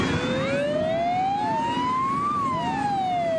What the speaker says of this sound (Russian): Под вой сирен в бой идет тяжелая техника, тракторы и пожарные